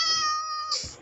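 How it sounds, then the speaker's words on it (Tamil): A kitten in a mobile video game gives one clear, high, drawn-out meow that is close and alone, ending in a short soft rustle. "பத்தியா பூனைக்குட்டி பூனைக்குட்டி"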